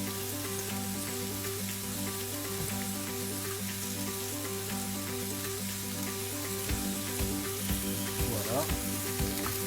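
Minced meat frying in a pan for French tacos, giving a steady, dense sizzle that runs throughout with a few brief clinks of stirring near the end; one short spoken word.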